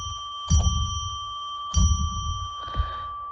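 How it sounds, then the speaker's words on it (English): A small bell rings three times to declare sacred space on a psychic radio show, three clear dings spaced about a second apart, each fading into a lingering tone, with the last strike softer. "let's ring a bell 3 times to declare sacred space"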